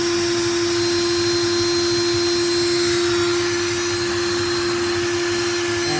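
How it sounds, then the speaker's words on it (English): A steady, loud mechanical whine of a power drill spinning a LEGO DOHC 45° V-twin engine, running continuously with a buzzing rattle underneath and no talking. "now let's run it in with the drill"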